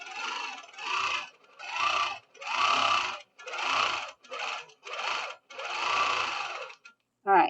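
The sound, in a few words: longarm quilting machine stitching curvy quilting with Handiquilter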